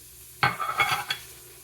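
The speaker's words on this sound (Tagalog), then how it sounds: "Ginusa ko lang para makasama dito sa giniling para lumambot na" Ginger, garlic and onion hit a pan with ground meat, giving a short burst of sizzling and a few stirring scrapes that quickly fade back to near quiet, with no voices.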